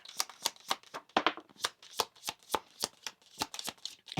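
A deck of tarot cards shuffled by hand at close range, a fast, even run of crisp riffling snaps and flicks with no talking.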